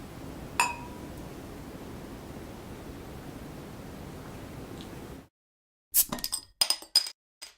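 Glasses clink in a beer toast with Goose Island Gillian Belgian farmhouse ale, one clear chime over steady hiss, then a few bright clinks after a sudden silence.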